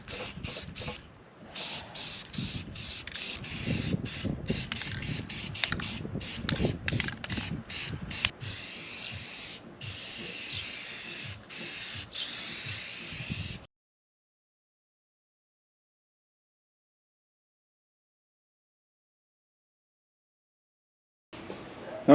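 A spray gun painting a diesel off-road trike frame red hisses in short bursts and longer sustained passes for about fourteen seconds, followed by a long silence.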